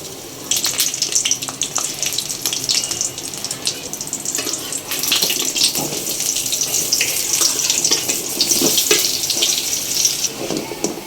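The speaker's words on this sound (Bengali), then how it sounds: "এই যে আমি তেল দিয়ে দিব বড়াগুলো ভাজার জন্য। আমি এক এক করে বড়াগুলো দিয়ে দিব।" Lentil and egg fritter batter sizzles loudly in hot oil, a dense, continuous crackling hiss close by that runs nearly unbroken for several seconds, with no talking over it.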